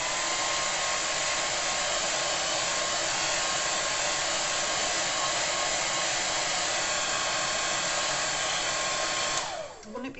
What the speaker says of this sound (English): Wouldn't it be good to be able to do this without a hairdryer?